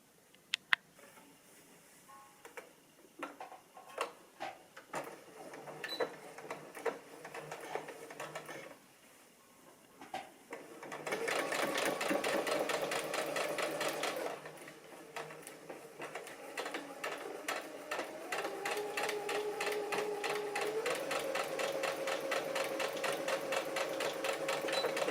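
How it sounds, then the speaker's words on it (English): Sewing machine stitching pieces of a dress: after a stretch of faint rattling and handling, the motor runs in a loud, steady buzzing whir, pauses briefly, then carries on in long continuous bursts. "I'm going to film a little bit of the process of me sewing them"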